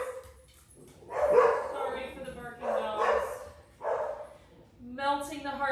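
Domestic dog barking in several loud bursts with yips and whimpering tones, close by, breaking a quiet indoor setting during a full-body exercise flow.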